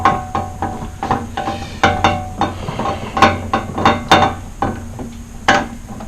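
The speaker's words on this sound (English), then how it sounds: "We can put this Allen wrench here and turn it." An Allen wrench turning the headlight motor on a Pontiac Firebird or Trans Am to raise the headlight, giving rapid irregular ratcheting clicks and metallic ticks, close and moderately loud.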